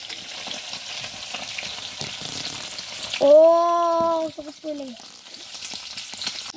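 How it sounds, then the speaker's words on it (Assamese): Fish fries in a pan, a steady close sizzle that runs throughout, briefly joined midway by a loud tonal whine that fades after a second or two. "এটা হাতেৰে মই মাছ ভাজি আছো"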